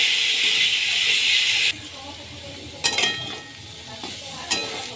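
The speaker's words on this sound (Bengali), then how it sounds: "তেলটা গরম হয়ে যাওয়ার পর আলু আর গাজর আমি দিয়ে দিয়েছি। এবার এটা ভেজে নেব।" Potatoes and carrots fry in hot mustard oil in a kadai, starting with a loud, bright sizzle that drops to quieter frying punctuated by sharp spatula knocks and scrapes.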